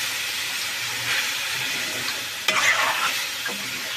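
Chicken pieces stirred through ginger spice paste in a hot pan for a curry, giving a steady close sizzle with occasional scraping strokes of a spoon and a louder stir near the middle.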